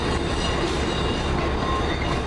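An Amtrak AEM7 electric locomotive hauls a regional or long-distance train that includes a heritage baggage car, a loud, steady rumble of rolling cars with rail noise close by, no voices.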